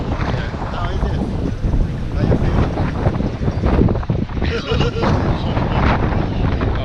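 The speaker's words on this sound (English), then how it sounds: "Oh, so windy." Strong wind roaring across the microphone on a boat on San Francisco Bay, loud and continuous with gusty surges and water and engine noise beneath.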